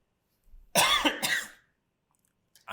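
A person gives two quick, close coughs in a row, with a short throat-clearing quality, in an otherwise quiet room.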